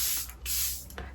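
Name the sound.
makeup setting spray being sprayed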